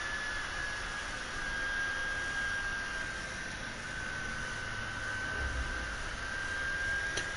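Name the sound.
overheating game consoles, loud fan noise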